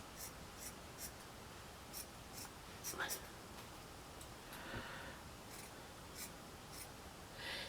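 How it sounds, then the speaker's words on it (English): Scissors snip through beige felt in short, quiet, crisp cuts spaced irregularly, close by, with soft talking. "I found my beige felt to do my bits and pieces. So I'm just going to cut a piece."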